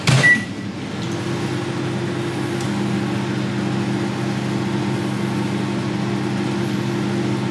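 A microwave oven hums steadily as it runs, a low even drone after a brief start-up click and beep, with no voices.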